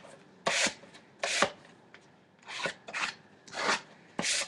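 A smoothing tool rubbed along paper at the edge of an altered tin gift box, giving six separate bursts of scraping, each about a quarter to half a second long. The strokes come close and fairly loud, with no talk.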